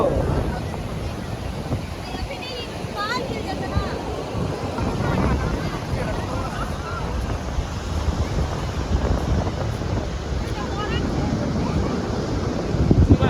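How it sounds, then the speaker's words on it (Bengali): Sea waves and strong wind on the beach at Puri, a loud continuous roar of surf and gusting wind buffeting the microphone, with voices faintly in the background. "দেখো ঢেউগুলো কিভাবে আসছে"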